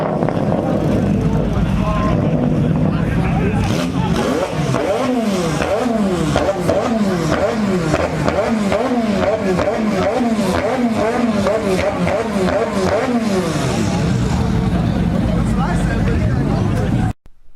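Cars passing at close range out on the street, a McLaren among them, with engines revving and accelerating loudly in a rising and falling sweep while people chatter in the background.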